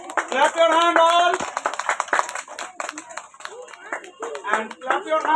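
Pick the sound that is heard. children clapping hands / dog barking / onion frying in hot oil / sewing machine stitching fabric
children clapping hands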